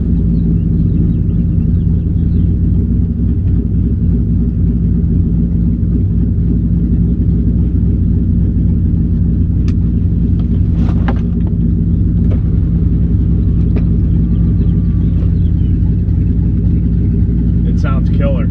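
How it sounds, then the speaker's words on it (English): A deep, loud V8 exhaust rumble from a 2001 Ford Mustang Bullitt GT with open exhaust cutouts drones steadily from start to finish, with a few brief higher crackles and pops near the end. "It's the exhaust sound I've always dreamed of."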